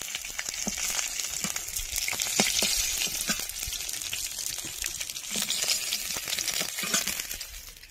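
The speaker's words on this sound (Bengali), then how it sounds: "মাছগুলো লাল লাল করে ভেজে নিয়েছি, এখন তুলে নেব।" Fish pieces fry in hot oil in a pan with a dense, continuous crackling sizzle, dotted by quick pops and light metallic clinks, steady and close throughout with no speech.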